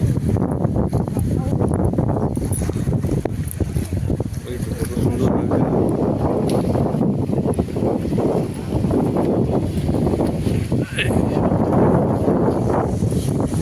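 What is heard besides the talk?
small trawler-type launch boat moving on water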